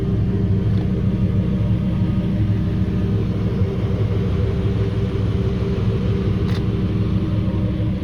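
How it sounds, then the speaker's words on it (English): A 2006 Ford F250 4x4 with a V10 engine idles in a steady, deep, even rumble, fairly loud and close, with no talking over it. "I don't know if the sound is amplified in the video, but in person this truck is not very loud at all."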